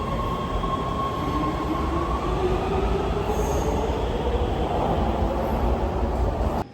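A Los Angeles metro train rumbles steadily along the track, wheels squealing with a drawn-out whine and a dull constant roar filling the car, no voices heard.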